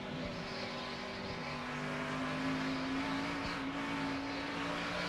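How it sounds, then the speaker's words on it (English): A Busch Series race car at Phoenix International Raceway, its driver feathering the throttle off the corner; a steady, loud engine drone with a sustained pitch and slight swells, continuous through the run, with no voices. "You can hear him having to play with that throttle off the corner"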